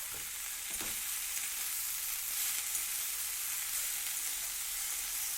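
Drumstick flowers frying in a pan, a constant bright sizzle with occasional scraping stirs, close and steady without any voices.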